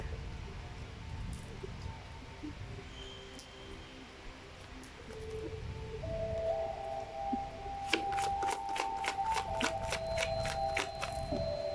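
Tarot cards are riffled and shuffled by hand close up, a soft rustle building into a quick run of crisp flicking snaps over faint room noise.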